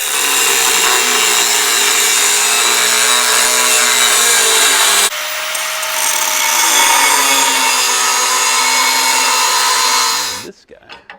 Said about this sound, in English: we're going to do a little cutting on here to get this bracket to fit on the axle